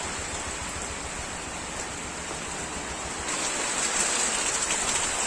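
Heavy rain pours outside at night during a storm, with flooding nearby: a steady, dense hiss of falling water that swells a little louder partway through, with no voices.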